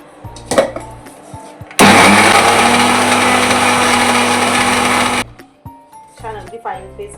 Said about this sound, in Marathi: आता याला आपल्याला ग्राइंड करायचं आहे